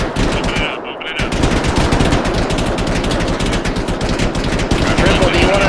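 Rapid machine-gun fire from the video game Arma 3 hammers almost continuously, loud and close, with one brief pause early on and faint voices underneath.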